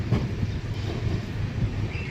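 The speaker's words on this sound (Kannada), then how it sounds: "ಇವಾಗ ದಾವಣಗೆರೆ ಸೈಡ್ ಹೋಗ್ತಾ ಇದೆ. ಹರಿಹರ ಬಿಡ್ತು ಟ್ರೈನು" A train pulling out of Harihar station from platform 3 toward Davanagere, a steady low rumble of rolling wagons with faint wheel clatter and wind noise, continuous and moderately loud.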